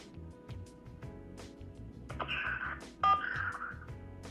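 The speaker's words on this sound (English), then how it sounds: "To accept, press 1." A single short telephone keypad tone, pressing 1 to accept an incoming call, sounds once briefly over a faint steady background.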